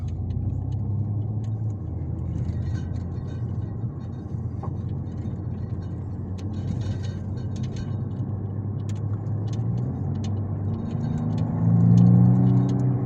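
A BMW 135i xDrive drives along a curvy, bumpy road, its engine holding a steady, loud interior drone with low rumble that swells slightly near the end as it pulls harder.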